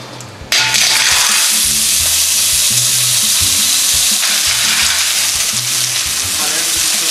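Olive oil hits a hot pan and bursts into a loud, steady sizzle that carries on without a break, with faint clinks and stirring noises underneath. The pan is being readied for a shellfish and seafood stock with fennel.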